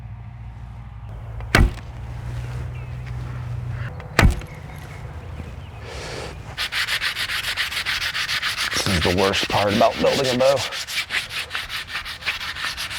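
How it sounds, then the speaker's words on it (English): Rhythmic hand sanding, a steady rasping scrub of sandpaper on an Osage orange wooden bow that grows louder and continues, with a few sharp knocks and a brief voice earlier. "I hate sanding."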